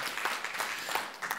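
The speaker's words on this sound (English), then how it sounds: "Give him an applause." A conference audience claps for a speaker at an offshore wind event, a brief, fairly faint patter of applause with no talking.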